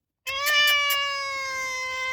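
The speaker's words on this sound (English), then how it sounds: "Meow. Meow." A cat meows loudly and up close in one long drawn-out, tonal call that starts abruptly and then sustains with a slowly falling pitch, with no talking over it.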